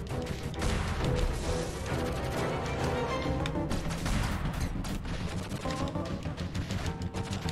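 Rapid volleys of gunshots fill a stretch of the video game Owlboy, a dense, continuous barrage of sharp cracks and impacts layered over game music, loud throughout with no speech.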